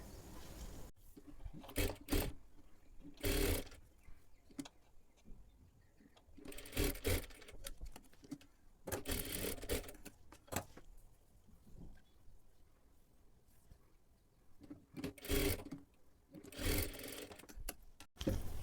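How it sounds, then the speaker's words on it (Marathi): A sewing machine double-stitching strips of piping fabric together, running in several loud bursts of rapid whirring stitches separated by quiet pauses and faint handling noise; no talking. "आता हे आपल्याला एकाला एक जोडून घ्यायचे आहेत डबल शिलाई मारून घ्यायची आहे"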